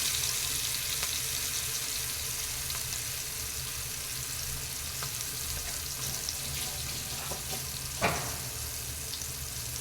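Chicken leg pieces fry on a medium flame with a steady, close crackle and hiss, broken by one brief clink near the end.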